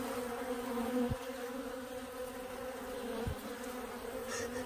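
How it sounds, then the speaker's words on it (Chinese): Honeybees drone in a continuous buzz around an urban rooftop hive during a frantic honey-robbing scramble. Two sharp soft thumps mark bees bumping into a beekeeper's veil net close by. "我的网子一直被蜜蜂撞到，他们已经抓狂了"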